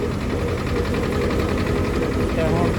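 A small two-cylinder tractor engine running close by, a steady low throbbing rumble with even pulsing beat, mingled with people talking over it.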